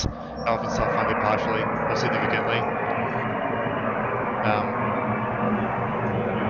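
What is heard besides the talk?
airplane flying overhead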